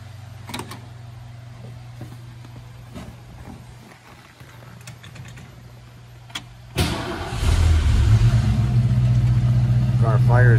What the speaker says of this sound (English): Car fires right up, sounds amazing.